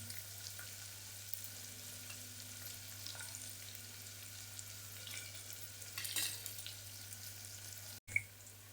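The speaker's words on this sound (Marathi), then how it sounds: "लसूण आणि अद्रक मी चेचून घेतलं आहे हे पण टाकतो" Crushed garlic and ginger sizzle steadily in a hot pan for a pea pulao, a continuous soft frying hiss with occasional stirring scrapes, alone and without talk.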